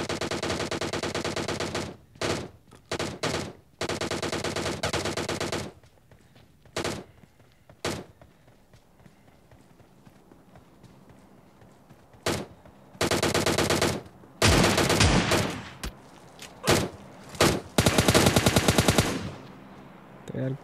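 Shotgun fire in the mobile game PUBG Mobile Lite: loud, sharp blasts and bursts of gunfire in uneven clusters, with quiet gaps between volleys and a dense run of shots near the end.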